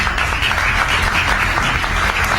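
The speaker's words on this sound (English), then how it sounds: "I would like to all just give a round of applause to welcome Mr. Clarke and call him up" Audience applause welcoming a speaker called up to the stage: steady, dense clapping from a crowd that holds at an even loud level throughout, with no voices over it.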